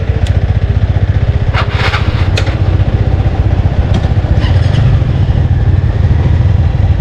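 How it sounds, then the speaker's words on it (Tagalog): Motorcycle engine idling close by with a loud, steady, throbbing rumble; a few brief higher clatters rise above the drone. "Ganda po ng motor, oh."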